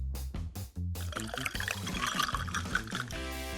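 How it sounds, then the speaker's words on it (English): Gelatin jelly pours steadily into a lipstick tube for a few seconds, a thick trickling flow with a faint splashy texture, close up, no talking. "Pour jelly into the lipstick tube."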